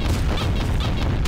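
A monster blowing up in Garry's Mod, Garten of Banban mod: a dense, loud burst of crashing, booming noise with several sharp hits running through the whole short moment.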